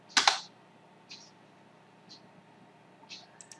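Keys clicked on a computer keyboard while working in SAP software: a quick cluster of loud, close keystrokes at the start, then a few sparse, softer single taps spaced apart over a quiet background.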